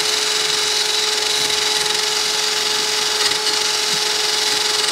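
A power tool spins a brass wire brush against the metal of a TGB 550 Target/Blade quad A-arm, stripping old rubber bushing material; a steady, loud, even whir with a high whine and no pauses.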